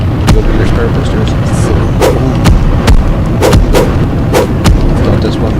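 Cannon fire in a space combat video game: sharp, booming shots in an irregular series of about ten over a constant rumbling background, with voices talking underneath.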